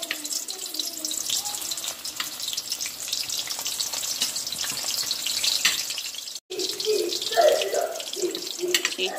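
Green plantains hit hot oil in a pan, producing a steady close sizzle that rises as more pieces go in, with a brief gap before the bubbling picks back up.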